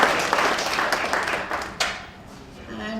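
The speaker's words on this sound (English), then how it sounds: "I think we need to give a big round of applause to ourselves to be here." Audience applause at an education talk, moderately loud clapping that thins out and fades after a couple of seconds, with a last sharp clap before quieter room noise and a faint voice beginning.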